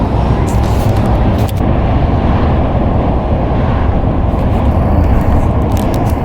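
A van driving on a road through Atlanta, a loud constant interior roar of road and engine noise with wind buffeting, steady throughout.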